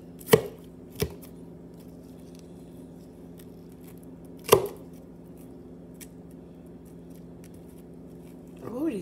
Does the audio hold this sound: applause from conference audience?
no